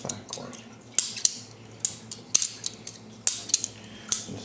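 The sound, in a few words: balisong butterfly knife being flipped open and closed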